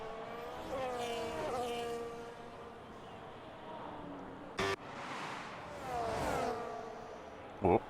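F1 race cars in an F1 video game at the Abu Dhabi Grand Prix, engines whining and shifting pitch as they overtake at the back of the field, with a voice talking over the steady engine drone.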